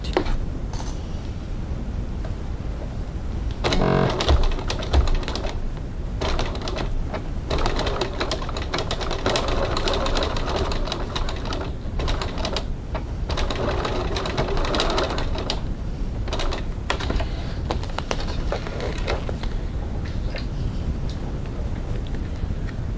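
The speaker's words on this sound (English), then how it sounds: "now we're going to stitch 1/8 of an inch, 3 millimeters away from the edge of our strap to secure it to our bag" A sewing machine stitches a strap onto a clear bag, a steady close mechanical whirring run with brief pauses and restarts, unaccompanied by talking.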